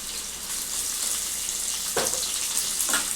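Ginger garlic paste fries in a pan with a steady bright sizzle, with two brief scraping stirs near the end.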